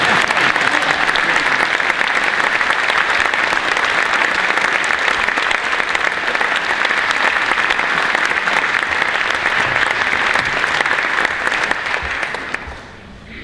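A crowd claps steadily and densely to welcome speaker Alan Guebert, the applause holding loud and even before tapering off at the end.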